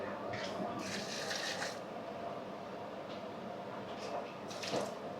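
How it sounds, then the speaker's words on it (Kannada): Water pours into a cooking pot while making tomato bath, a soft, continuous rushing with slight surges, fairly faint and close. "ಈಗ ನೀರು ಹಾಕ್ಕೊತಾ ಇದ್ದಾರೆ"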